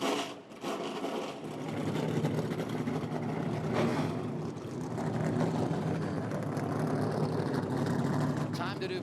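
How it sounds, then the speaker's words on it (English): NASCAR Xfinity Series stock cars firing up their engines at Iowa Speedway's short track, a loud, dense roar of many motors swelling and holding steady, with crowd noise and voices underneath. "Drivers, start your engines!"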